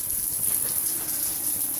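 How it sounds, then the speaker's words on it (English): Water gushes steadily from a tap fed by an improvised hot water heater, a constant close hiss with no pauses. "the water will keep going for another 30 seconds"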